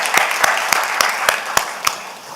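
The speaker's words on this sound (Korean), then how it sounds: "우리 주님 앞에 감사의 박수를 한번 올려드리겠습니다." A church congregation applauds at a Sunday evening service, broad steady clapping with a few sharp regular claps standing out, fading slightly at the end.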